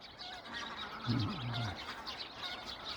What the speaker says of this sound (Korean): 여기 새들 좀 보십시오